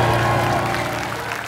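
Short burst of steady audience applause in a TV studio game show, a dense wash of clapping from a crowd, moderately loud and continuous.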